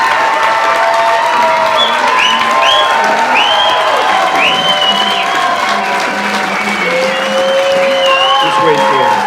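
Sustained, loud applause and cheering from an audience at a county board of supervisors recall meeting, dense clapping with whoops and a few voices calling out over it throughout.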